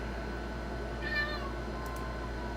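A single short cat meow, faint and somewhat distant, over a steady low background hum in a quiet room.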